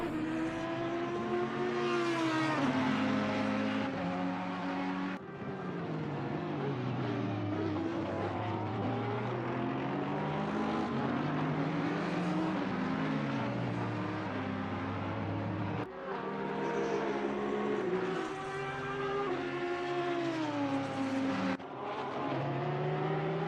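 GT3 race cars, Ferrari and Porsche, racing at Spa in the Assetto Corsa Competizione video game: loud, continuous engine roars rising and falling through gear changes, with several cars passing close by, no voices.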